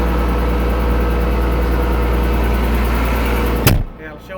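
Case MX135 tractor diesel engine running loud and steady with a constant low rumble, then cutting off abruptly near the end, followed by a brief quieter stretch.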